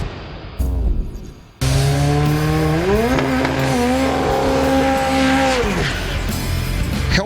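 The Hellbat, a 13B twin-turbo rotary drag car on aero wheels, launches hard with a loud, rising rotary howl that climbs, holds and shifts before tapering off, preceded by a brief lower engine burble.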